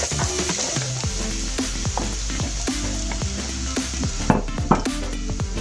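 Onions sizzle steadily in hot oil with dried thyme and oregano for a tomato basil soup, a continuous close frying hiss broken by repeated clinks and scrapes of a utensil against the pan.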